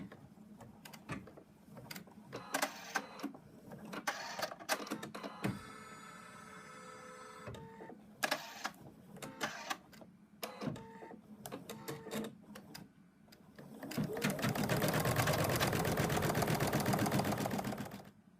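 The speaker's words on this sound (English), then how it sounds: "Next, it's going to stitch out the teeth." Embroidery machine stitching an in-the-hoop bunny design, with rapid mechanical chattering bursts of needle strokes, whirring pauses as the hoop repositions, and a longer steady buzzing run near the end, close and with no talk.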